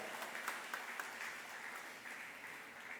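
Steady applause from a crowd at a church revitalization panel, a dense wash of clapping that holds at an even level throughout with no voices standing out.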